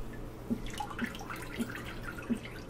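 A cloth of corn porridge is squeezed by hand, letting water trickle and drip out in soft repeated splashes, close and quiet against a faint background hum.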